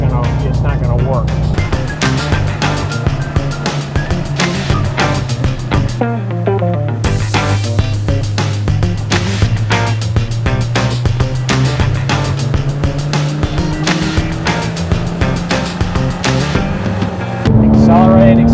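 Porsche 911 GT3 engine held at steady revs with blips during heel-toe downshifts at speed, a loud continuous drone with rising and falling pitch under talk throughout.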